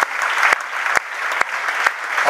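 Loud, dense applause from a church congregation, a continuous wash of clapping with a few sharp louder claps punctuating it at irregular intervals.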